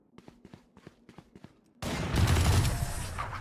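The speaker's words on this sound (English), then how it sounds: "Bro, how are they shooting straight while walking?" Enemy gunfire in the tactical shooter Valorant crackles as a rapid run of sharp single shots at a steady rhythm, then a loud dense burst of combat noise suddenly takes over.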